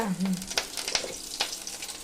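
Mustard seeds and curry leaves sputter in hot oil in a pan, with sharp crackling pops over a steady sizzle and a brief stirring scrape, close and fairly loud.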